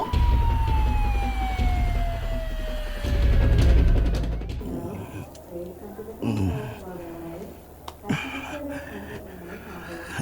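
An ambulance siren wails loudly as it arrives to carry the injured from a taxi crash, its tone sliding steadily downward for several seconds before cutting off, with voices talking over it.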